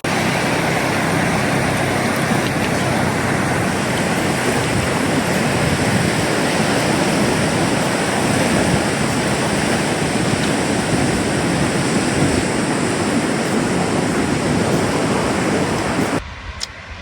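Ocean surf at a state park beach rolls in a loud, continuous broadband wash that stays steady for a long stretch, then cuts off abruptly, with no talking.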